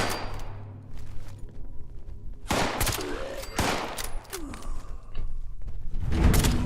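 Repeated gunfire from .45 ammo in the video game Fallout 76, loud sharp shots in bursts with thuds and mechanical clicks between them, fairly close.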